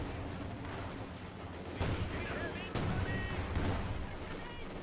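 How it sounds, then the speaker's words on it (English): Artillery barrage in Company of Heroes 2 on the Moscow Outskirts map, dense rumbling blasts and crackling impacts layered over continuous battle noise, with a couple of sharper hits standing out. "Artillery barrage trying to clear out the stolen AT gun"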